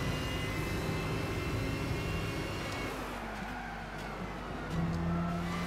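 Race car engines roar loud and steady as cars run a Group GT3 series race in Gran Turismo 6, with a continuous droning whine that shifts pitch as the cars overtake.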